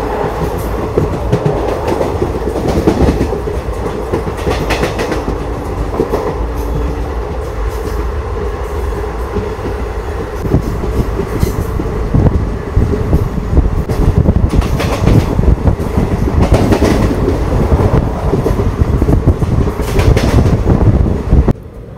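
The Amritha Express passenger train rolls along the rails from Trivandrum toward Rameswaram, with loud, steady rumble and rhythmic clickety-clack of wheels heard from on board.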